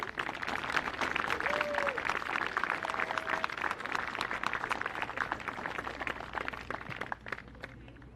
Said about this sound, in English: big round of applause for Barradine.